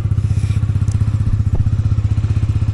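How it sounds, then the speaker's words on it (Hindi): A loaded touring motorbike on a Kullu valley ride idles right after starting, its engine thumping in a steady, rapid low pulse, close and loud with no talk. "तो थोड़ा सा बाइक को स्टार्ट कर देते हैं। बाइक कर लिए स्टार्ट।"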